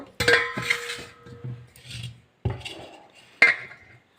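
Metal pots clank and scrape as they are set down and moved, several sharp knocks separated by short pauses, close by.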